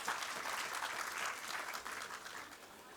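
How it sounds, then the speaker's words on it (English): A crowd at a British High Commission event in Kenya claps together in a fairly faint, even burst of applause that runs the whole short stretch. "So I think you should all give yourselves a round of applause now."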